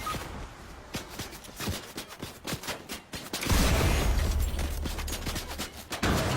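Gunshots in Fortnite crack around the player in a scattered series of sharp reports, mixed with shuffling footsteps, then give way to a louder, steadier rush of game noise.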